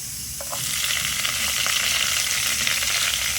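Garlic dropped into hot oil, quiet for a moment and then bursting into a loud, continuous sizzle with a few crackles and stirring noises, close by and with no talk.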